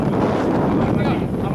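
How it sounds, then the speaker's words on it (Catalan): Strong wind buffets the microphone just after landing in Switzerland, a loud, continuous low roar and rumble with no letup, and faint talk is barely audible beneath it. "fot un vent d'aterrar"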